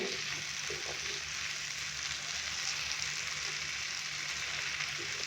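Potato pieces fry with garlic paste in a pan, giving a steady, even sizzle with no voices over it.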